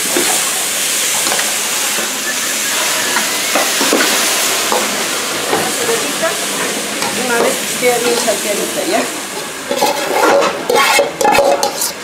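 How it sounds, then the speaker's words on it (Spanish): Onion sautéing in a pan at a picantería kitchen, a steady loud sizzle with frequent stirring scrapes, growing busier and more clattery toward the end. "Acá le vamos a dar una salteadita a la cebolla"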